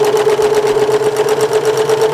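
A sewing machine stitches fabric in a continuous, fast, rhythmic whir close to the microphone, steady throughout with no talking.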